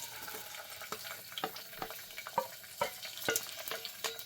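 Chopped large onions frying in melted ghee in a pan, a steady soft sizzle broken by repeated scraping stir strokes and clinks, moderately close with no talking.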